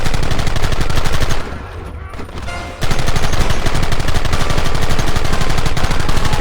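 Rapid, loud gunfire in Red Dead Redemption, a dense crackle of rifle and pistol shots firing almost continuously, dropping out for about a second before resuming at full intensity.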